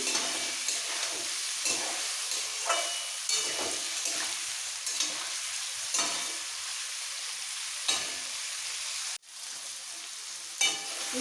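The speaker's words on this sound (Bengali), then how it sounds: "একটা ছোট ফুলকপি একটাই বড় সাইজের আলু কেটে নিয়েছিলাম সেটাই ভাজছি" Cauliflower and potato frying in oil, a loud, dense, continuous sizzle with repeated stirring scrapes at irregular intervals, close up with no talking.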